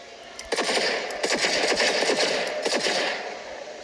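Rapid bursts of automatic gunfire from Cyberpunk crackle from the speakers of an MSI GE66 Raider laptop, thin and somewhat tinny, with several quick volleys over a noisy background.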